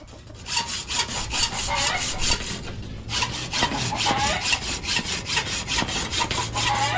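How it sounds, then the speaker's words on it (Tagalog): Hand saw cutting through material on a house construction site, used in place of a grinder, with fast, steady back-and-forth rasping strokes close up, briefly pausing before resuming in an even rhythm. "so lagarin muna."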